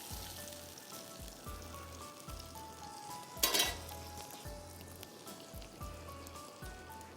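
Garlic bread rolls fry gently in a pan with a soft, faint sizzle and a low rhythmic hum pulsing underneath, plus one brief louder crackle midway.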